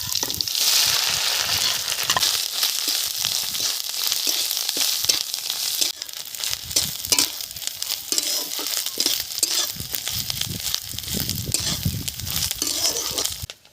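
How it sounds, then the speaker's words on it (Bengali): Dry chillies, black cumin, cumin and grated coconut fry in hot oil with a steady, close sizzle. Scraping and stirring noises come through the crackle, and there is no talk. "কালো জিরে আর সাদা জিরে ফোড়নে দিচ্ছি দিয়ে দিচ্ছি নারকেল কুড়ো"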